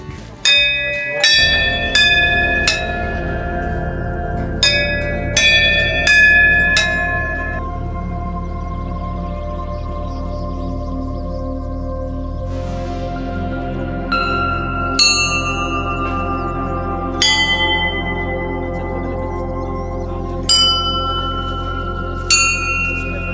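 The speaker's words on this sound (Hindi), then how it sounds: "ये सारे घंटी जो है ना अलग अलग साउंड प्रोड्यूस करते हैं।" Temple bells at Kartikeya Swami Temple ring in repeated bright metallic strikes, several clustered hits early and more spaced ones later, each leaving a long shimmering decay over a steady low drone.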